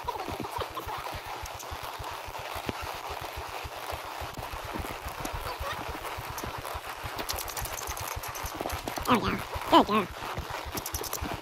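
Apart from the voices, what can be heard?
horse hooves clip-clopping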